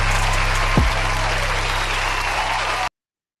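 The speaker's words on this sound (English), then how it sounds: "Give a round of applause." Podcast studio audience applauding steadily for the host's entrance, a dense wash of clapping that holds for nearly three seconds before cutting off abruptly, with brief voices underneath.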